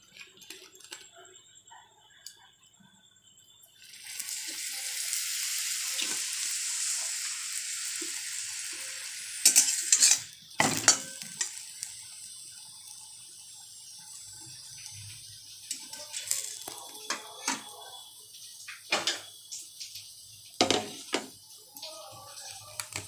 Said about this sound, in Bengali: নাহলে এরকম করেই ভাজতে পারেন